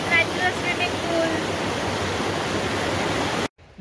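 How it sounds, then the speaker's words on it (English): Solbergfossen waterfall near Oslo, Norway, with its natural swimming pool, roars as a steady broadband rush close by, then cuts off abruptly near the end. "Even waterfall with natural swimming pool."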